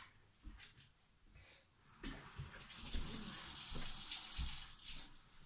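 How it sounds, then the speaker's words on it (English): A tap runs into a sink during a quiet handwash, a soft splashing stream rising and falling as hands move under it, fairly faint and with no talk. "let me wash my hands"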